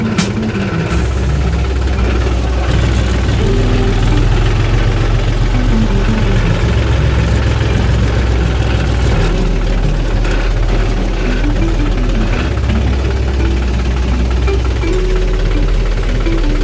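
Two tractors idling on a farm during a cotton harvest, a loud, continuous low diesel rumble with a steady knocking pulse throughout, close by and with no voices.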